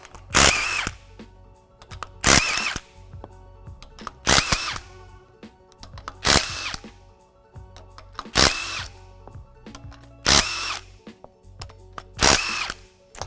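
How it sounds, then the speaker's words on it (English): An impact wrench fitted with a 1/2 inch Allen bit removes the cover plate wing nuts on a Waukesha positive displacement pump, firing seven loud, sharp bursts at a steady rhythm with short pauses between them and no talking. "we're going to use an impact with a 1/2 inch Allen to zap off the cover plate wing nuts"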